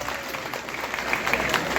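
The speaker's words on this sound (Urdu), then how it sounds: "آپ کی عظمت کو سلام ہے زوردار تالیوں کے ساتھ" Audience applause at a ceremony where an Engineer Amir Muqam is honored, a steady wash of clapping from a crowd throughout, fairly even in loudness with scattered individual claps standing out.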